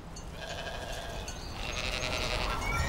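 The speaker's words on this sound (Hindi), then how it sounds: "लोगों के खेतों में अपनी भेड़ें चराओ" A flock of sheep grazing in fields bleats several times over a steady outdoor background, the calls moderately near and overlapping in the second half.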